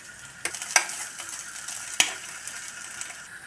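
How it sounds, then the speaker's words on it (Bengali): Long-cut paneer cubes lightly frying in a pan give a faint, steady sizzle with a couple of sharp clinks from a utensil, heard close and quiet without any talking. "লম্বা কিউব করে কেটে রাখা পনিরগুলো আমি এবার দিয়ে দেবো। হালকা ফ্রাই করব"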